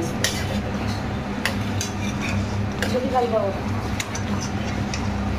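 Sweet mango pickle with dried red chillies and fennel seeds being stirred in a pan, giving soft scraping and clinking of a spoon against metal with faint sizzling under a steady background hum.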